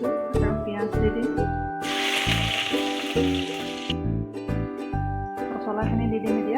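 Dried chili and onion hit hot oil in a heated wok (kerahi), a sudden loud sizzle that flares for about two seconds before settling, while a voice speaks before and after.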